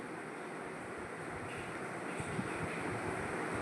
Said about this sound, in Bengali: এখানে আমি দুটো শুকনো লঙ্কা ভালো করে তেল সর্ষের তেলে ভেজে নিচ্ছি